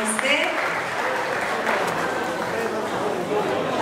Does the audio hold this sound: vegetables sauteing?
no